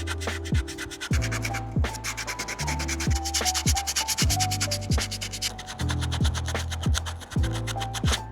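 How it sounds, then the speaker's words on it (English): A wood carving being hand-sanded: continuous gritty rubbing and scratching strokes, close and steady, with repeated back-and-forth passes and periodic low thumps, no voices. "But then came the sanding, which I am not a fan of."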